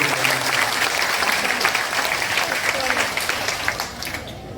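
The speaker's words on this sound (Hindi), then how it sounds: "एक बार जोरदार तालियां।" A crowd claps loudly at an outdoor religious procession gathering, a dense, continuous round of applause that slowly thins and fades toward the end.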